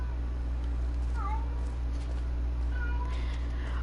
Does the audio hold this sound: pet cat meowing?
yes